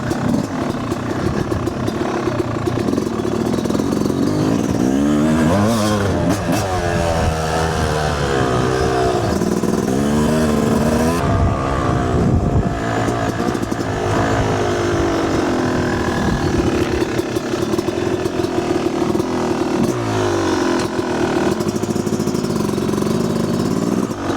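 A loud dirt bike engine runs continuously on a trail, droning and revving up and down with warbling pitch sweeps as the rider works the throttle, close and steady throughout.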